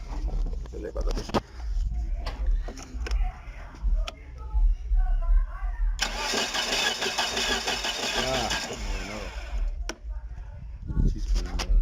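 A Dodge Spirit engine with a no-start fault cranks in repeated bursts without catching, close and loud, with voices talking around it in a workshop.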